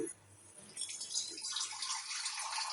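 Water is poured into a simmering bombil (Bombay duck) fish curry. A quiet start gives way to a steady, hissing splash that continues to the end.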